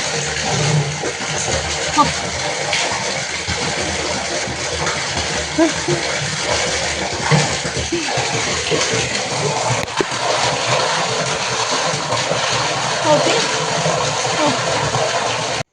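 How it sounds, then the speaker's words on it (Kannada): Water starts flowing from a pump pipe with a steady, loud, hissing rush that continues throughout, while a person speaks over it. "ನೀರು ಬರ್ಲಿಕ್ಕೆ ಶುರುವಾಗುವಾಗ ಸೌಂಡ್ ಬರ್ತದಲ್ಲ ಅದನ್ನು ಕೇಳಿ ಮೀಟರ್ ಆಫ್ ಆಗಿ"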